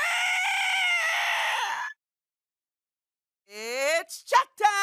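A human voice imitates a mighty eagle's battle cry, a long sustained screeching call that cuts off abruptly, followed by silence and then a few shorter rising squawks.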